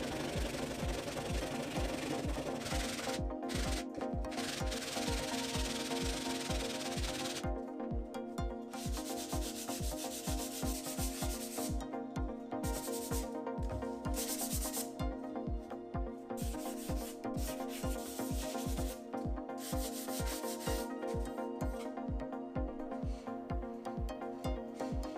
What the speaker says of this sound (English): When the epoxy is fully cured, I spend a few hours sanding down the enclosure to reveal the smooth plywood layers.